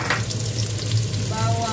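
Onions fry in a pan for pansit canton, giving a constant close sizzle with a low hum beneath it, brief and even in loudness, with no talking.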